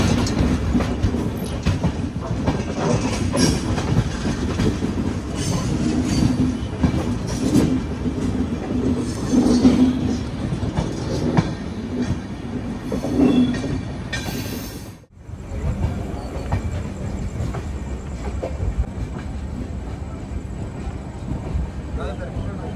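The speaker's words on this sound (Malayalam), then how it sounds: "ട്രെയിൻ കറക്റ്റ് 6:05 തന്നെ കണ്ണൂരിൽ നിന്ന് എത്തിയിട്ടുണ്ടായിരുന്നു" A Kannur–Yesvantpur passenger train runs steadily, its wagons rumbling with a continuous low roar and faint rhythmic clatter, loud and close throughout, with a brief dropout near the middle.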